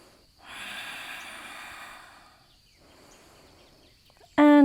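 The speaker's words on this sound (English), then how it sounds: "Let's take one more deep breath here." During a gentle yoga core flow, a person draws one long, airy deep breath close to the mic, followed by a softer, quieter exhale, and a sudden brief tonal sound cuts in at the very end.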